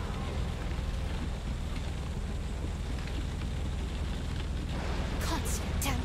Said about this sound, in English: I don't want to be out here when it rains like that.